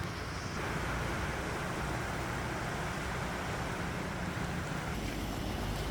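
Continuous rushing of surf on a beach at Luna, La Union, Philippines, with heavy wind noise buffeting the microphone, a steady broadband roar without voices.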